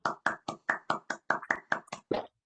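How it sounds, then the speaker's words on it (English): An online audience applauding a talk over open microphones, about eleven quick, distinct claps in a fairly even rhythm, close and moderately loud, ending abruptly after a couple of seconds. "give Wei a round of applause for her talk today"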